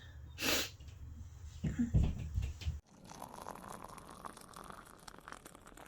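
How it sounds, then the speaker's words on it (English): A sharp nasal sniff or sneeze-like burst up close, followed by wet snuffly breathing, then a steady low background hiss. "And yes, I'm still sniffling."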